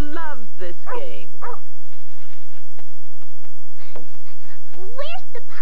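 A cartoon puppy barks in a few short yips, loud and close, around hooflike clip-clop footsteps and a voice calling out.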